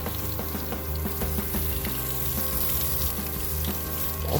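Garden hose water spraying steadily onto a dog's feet to wash off dirt, a continuous close hiss with faint splashing throughout.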